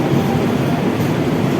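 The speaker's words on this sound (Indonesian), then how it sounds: "Kereta api Singasari rute Blitar Jakarta, ini juga kereta api dari Lempuyangan Jakarta." Singasari passenger train on the Blitar–Jakarta route, heard as a loud, steady rumbling roar of the carriage in motion, close and continuous with no talk.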